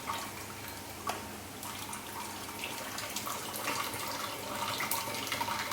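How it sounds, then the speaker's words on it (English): Water pouring and draining from soaked rice for chicken biryani, a continuous splashing trickle at moderate distance with scattered drips, steady throughout. "What I'm gonna do is now drain the rice,"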